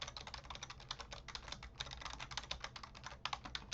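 Fast, continuous typing on a computer keyboard, a dense run of close, crisp key clicks with no talking.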